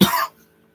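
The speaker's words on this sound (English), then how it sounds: "I got like a little cough" One short, sharp cough up close, quickly fading to near silence.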